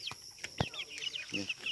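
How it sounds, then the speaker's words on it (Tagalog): Chickens on a small farmhouse poultry yard cluck and chirp in quick uneven bursts, close by, with a few sharp thumps and some faint background talk. "Ih, ako mga manok."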